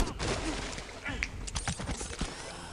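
Blaster shots ring out in Star Wars Jedi: Fallen Order, a rapid, crackling volley of bursts mixed with deflection hits. Someone talks over the gunfire.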